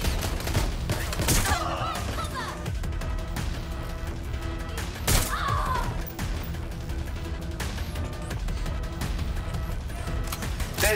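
Gunfire in the video game Watch Dogs Legion: a few sharp shots and bursts stand out at moderate loudness over a continuous bed of game music and ambience.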